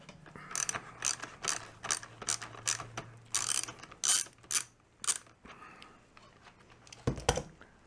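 Wrench loosening a nut on a Duralast BP DL750 portable jump starter, a rapid series of close ratcheting clicks in short bursts, ending with a louder metallic clunk.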